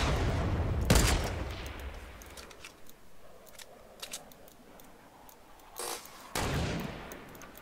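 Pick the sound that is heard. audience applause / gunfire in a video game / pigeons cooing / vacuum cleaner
gunfire in a video game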